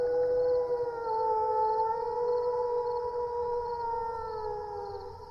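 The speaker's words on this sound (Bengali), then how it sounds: "শুধু দূরে কোথাও একটা আধটা শেয়ালের হুক্কা হওয়ার ডাক শোনা যাচ্ছে।" A jackal howls at night, a long, steady, wavering call that holds without a break for several seconds with no other sound around it.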